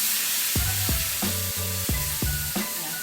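Water mixed with khar hits frying fish in a hot pan, giving a loud, steady sizzle broken by several sharp bursts as liquid splashes in, with no voices.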